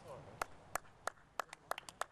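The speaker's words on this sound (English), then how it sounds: "How bad are the people who are clapping at golf?" Scattered spectators at a golf championship clapping after a fairway wood shot, a handful of sharp, spaced claps ringing out in the open air under faint background noise.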